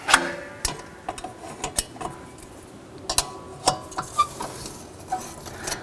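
A wrench clicks and ratchets while torquing down bolts on a Porsche GT3 RS being lowered: sharp, close metallic ticks come in an irregular rhythm, some in quick pairs, over a quiet workshop background.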